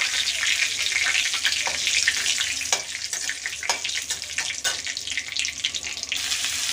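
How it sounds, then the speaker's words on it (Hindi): Onions sizzle and fry in hot oil with bay leaf, cumin and dried chilli, a steady close crackle with scattered louder pops and stirring scrapes, no talking. "प्याज हम डाल दिए हैं और ये ब्राउन होगा तब तक इसको हम भून लेंगे"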